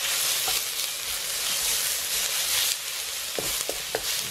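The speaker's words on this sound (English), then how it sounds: "Give it a good stir round." Minced pork for Thai pad krapow fries in a hot pan with a loud, steady hiss, while a utensil scrapes and stirs in a few sharp strokes near the end.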